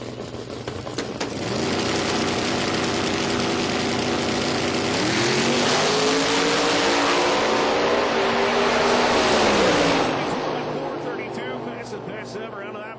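A drag racing car idles with a buzzy, propeller-like drone, then revs harder and pulls away at full throttle. The engine stays loud for several seconds before fading, with a commentator talking over it.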